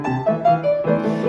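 Piano passage with sloppy, wrong notes in the left hand, heard as a short run of sustained chords and melody notes, fairly loud and close with no talking.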